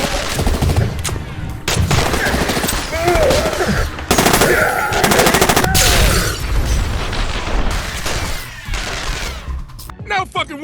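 Rapid automatic gunfire and bursts of shots from the PC first-person shooter Armed Forces Corp, loud and continuous in dense fusillades with booms, while a person talks excitedly over the combat.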